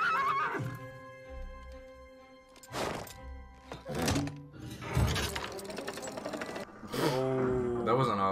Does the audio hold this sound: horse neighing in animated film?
yes